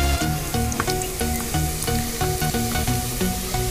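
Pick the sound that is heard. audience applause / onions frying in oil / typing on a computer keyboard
onions frying in oil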